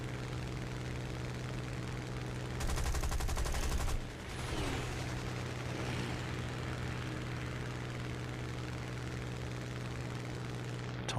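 Aircraft machine guns, twelve guns on a fighter in War Thunder, firing a dense rapid burst of about a second and a half over a constant engine drone, followed by softer impacts.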